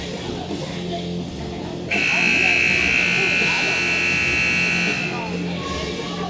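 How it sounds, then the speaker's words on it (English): A loud, steady electronic buzzer blares for about three seconds over a murmuring ice hockey arena crowd at a U19 girls' game, marking the start of the second period, then stops. "And with the buzzer sounding, it's the commencement of period 2"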